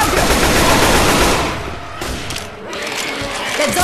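Automatic gunfire in Left 4 Dead 2, a loud, dense burst of rapid shots that eases briefly and then resumes, close and harsh, with voices under it.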